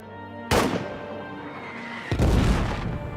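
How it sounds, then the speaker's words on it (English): A distant artillery shell bursts in a World War One trench game as a deep boom with a long rolling tail. A second, heavier blast follows about a second and a half later and rumbles on. "look at that artillery shell going off in the distance behind me"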